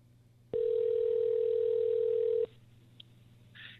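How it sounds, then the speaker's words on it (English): A single long electronic ring tone over a phone line lasts about two seconds, followed by quiet line noise and a faint click. "Come on, start ringing. There we go. It's ringing."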